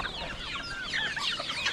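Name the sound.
geese on a farm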